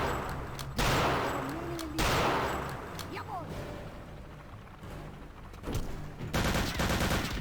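Gunfire in the video game BioShock 2 comes in a few loud, broadband bursts separated by quieter stretches, with a longer crackling volley near the end.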